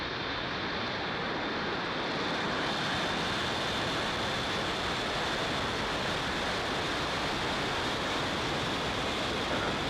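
Steady, broad roaring rumble of a SpaceX Falcon 9 lifting off with Starlink satellites, heard from a distance as a continuous, even wash of noise without any voices.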